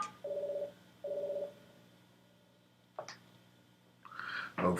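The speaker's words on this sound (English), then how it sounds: "other than the phone ringing." A telephone rings faintly in a quiet room, two short electronic trills a second apart, then a few scattered knocks and noises.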